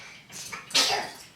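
A single short human sneeze indoors in a home kitchen, a quick breathy intake followed by a loud, bright burst that trails off.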